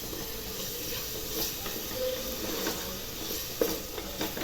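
Curd is stirred into quail biryani masala in a pan, a soft sizzle and frying hiss running steadily with a few scraping stir strokes, close and without talk.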